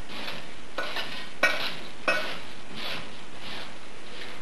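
Dried cherries stirred by hand into dry vegan molasses cookie dough, a few soft scraping and tapping strokes against the bowl, close and fairly quiet.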